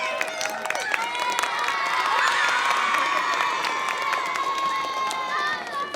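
Children clapping and cheering loudly for a classmate's award at a school flag salute assembly, with shrill shouts and excited voices layered over steady applause throughout.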